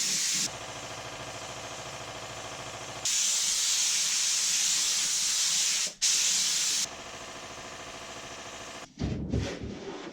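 Clear coat sprayed onto an old IKEA crafting cabinet inside a garage: a steady, close hiss of the spray gun running in long passes, with brief breaks in between and a few quick bursts at the end.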